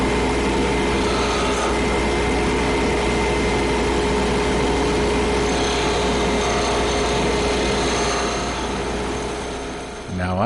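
A lathe spins a fountain pen blank at around 2000 RPM, giving a dense, continuous whirring roar with steady cutting noise that fades slightly near the end.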